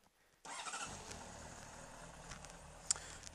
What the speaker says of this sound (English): Let's start her up here quickly.